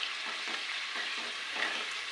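A dish is stirred in a pan before boti is added, making soft rhythmic scraping strokes at about twice a second over a faint continuous sizzle, fairly quiet and with no one talking.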